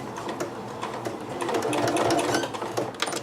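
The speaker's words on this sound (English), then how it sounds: "Sounds like my sewing foot needs some WD-40." Sewing machine with a squeaky sewing foot running in a steady whirring stitch, close and fairly loud, with a rapid mechanical patter that swells slightly in the middle of the run.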